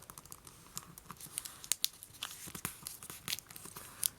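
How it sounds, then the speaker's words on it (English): Paper creased and folded by hand while making an origami crane, giving soft crinkles and sharp little crackles in an irregular patter, close and fairly quiet, with no talking. "Then we'll fold in the last edge."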